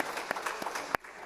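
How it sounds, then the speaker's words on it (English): Audience applause at a boxing press conference, a short burst of dense clapping with a few sharp louder claps, fairly close and steady before cutting off near the end. "round of applause"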